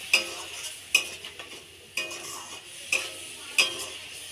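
Okra, potato and fish pieces simmer with a splash of water and spice paste, a soft steady sizzle broken by five sharp spatula scrapes against the pan at roughly one-second intervals, close and alone.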